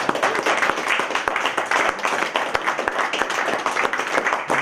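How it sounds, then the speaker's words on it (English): Audience applause following a technical conference talk, steady dense clapping from a room full of people throughout, close and even in loudness. "let's give Chris a big round of applause"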